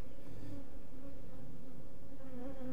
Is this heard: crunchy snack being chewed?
no